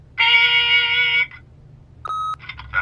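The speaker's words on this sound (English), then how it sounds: "leave a message at the beep and we'll get back to you as soon as..." Answering machine beep in The Wolf Among Us video game: a loud sustained electronic tone lasting about a second, followed after a pause by a shorter tone and some brief clipped game sounds.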